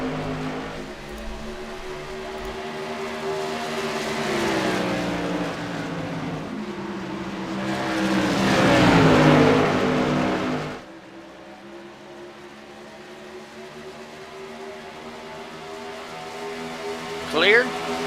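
Modified race cars roar around the Iowa track in the iRacing video game, engine drone rising and swelling as cars pass, then settling to a steadier hum, with a brief sharp squeal near the end.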